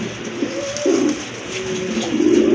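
Pigeons at a market selling large breeds such as blue satinettes give soft, low throaty coos in a few rolling phrases, close and fairly loud with no talk over them.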